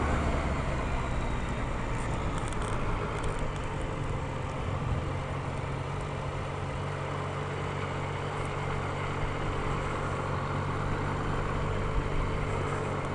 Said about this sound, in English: just figured I'd take the time scrubbing some tires just a little bit.